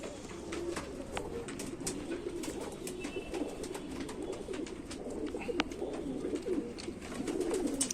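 Indian Rampuri pigeons coo over and over in soft, low, throaty rolls, joined by scattered chirps from other birds against a steady background hum, with no talking.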